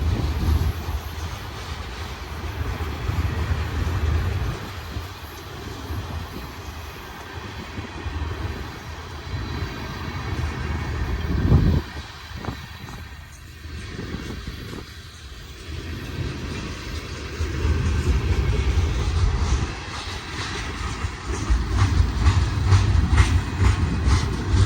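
A BNSF heavy manifest freight train led by EMD SD70ACe and SD70MAC locomotives, hauling gondolas, rolls past with a steady, loud low rumble and rail clatter that swells again toward the end.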